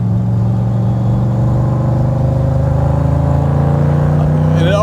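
A 1966 Chevrolet Corvette convertible with a high-output 327 V8 holds a loud, steady, throbbing engine note, with a rising rev at the end.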